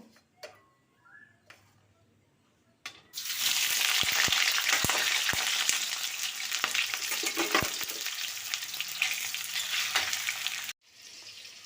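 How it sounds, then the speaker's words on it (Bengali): Potatoes frying in hot oil on a gas stove, a loud dense sizzle that starts abruptly after a quiet few seconds with faint clicks, runs steadily with occasional pops, then cuts off near the end. "গ্যাসটা অন করে তেলটা গরম করে নিয়েছি এখন আলুগুলো আমি ভেজে নেব"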